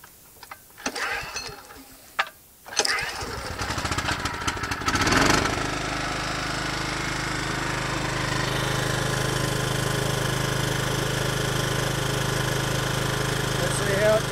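A small engine on a retrofitted exhaust-gas ram-air turbine rig cranks with a few short bursts, catches, and settles into a steady, loud idle that runs on alone after a brief voice.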